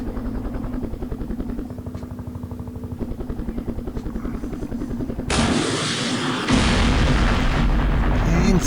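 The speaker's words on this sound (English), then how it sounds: "Unfortunately, I only get one shot, so we'll bring in the other gunship." Helicopter gunships attack trenches in a Vietnam war strategy game, with a rapid rotor chop followed by loud, dense blasts of rocket and gun fire that grow heavier and fill the sound near the end, with a voice talking over part of it.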